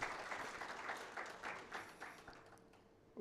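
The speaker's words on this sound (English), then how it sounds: "Ladies and gentlemen, can we give Professor Kiam another round of clap?" Audience applause at an education summit, a round of clapping that starts full and steady, then thins into scattered claps and fades toward the end.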